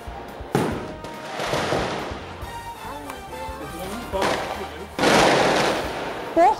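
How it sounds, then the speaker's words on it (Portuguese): Gunfire crackles through the night in Porto Novo, Cariacica, a neighborhood held by traffickers, with rapid bursts of distant shots over a background of murmuring voices. "A rajada de tiros e a noite de terror."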